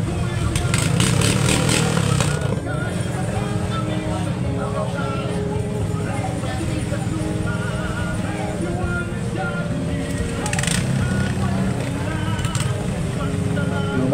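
A KTEC 20hp full-stock racing boat engine idles steadily at a seaside boat race, a continuous low rumble under an announcer's voice and crowd noise.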